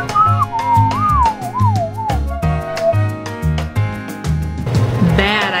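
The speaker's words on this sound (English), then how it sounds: "Whistling while you work." A person whistles a wavering, sliding melody over rhythmic background music with a steady beat, the whistled tune carrying clearly for a couple of seconds before fading into the track.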